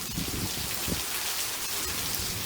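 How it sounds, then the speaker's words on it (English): Steady, heavy rain patters on a surface, a dense continuous hiss with no voices. "the sound of rain can be quite soothing"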